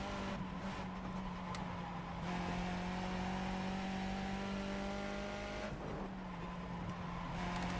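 A Skip Barber F2000 open-wheel race car engine drones steadily at high revs at Oran Park in the iRacing simulator, with a brief drop and shift in pitch as the driver eases off for a curve, heard from the cockpit.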